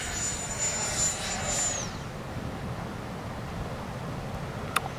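A Freewing 90mm F-15C Gulf Spirit RC jet makes a gear-down pass, its turbine whine sweeping by for about two seconds and then fading quickly into quiet outdoor background.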